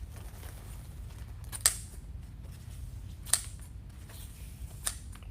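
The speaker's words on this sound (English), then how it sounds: "I'm gonna just cut my ribbons all at an angle." Scissors cut ribbons at an angle while making a wreath: three sharp snips spaced a couple of seconds apart over a faint low background hum, quiet and close, with no voices.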